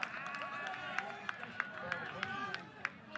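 Cheering and rhythmic clapping rise from the third base dugout at a windy night college baseball game in Missouri, steady crowd noise with periodic sharp claps, heard from a distance under a commentator's voice.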